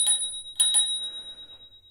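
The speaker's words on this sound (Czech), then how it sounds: "máme tedy zvoneček" Bell on a Kaabo Mantis 8 electric scooter rings three times, a bright, sustained ding followed by two quick strikes, close and clear with the tone fading away afterward, no talk.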